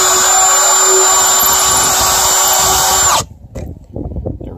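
A power drill whines loudly and steadily as it enlarges a hole to 3/16 inch in a trailer wall, then stops abruptly, leaving softer handling clatter.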